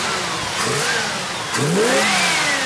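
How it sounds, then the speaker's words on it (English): A 350 Chevy V8 Corvette engine in a 1952 Jaguar XK120 coupe revs up twice, rising in pitch with each throttle blip, loud and close, with a steady rumble between. "So it's a 350 Corvette motor, huh?"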